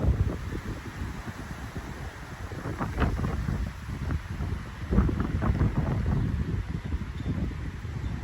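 Strong, blustery wind buffets the microphone outdoors on a walk in Nethy Bridge, a steady roaring rush with heavier gusts swelling throughout.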